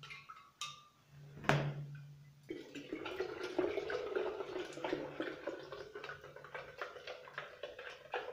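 Sweetened water pours into a kiwi and lime mixture, starting with a few faint drips and clinks and then turning into a steady, close splashing stream that runs to the end.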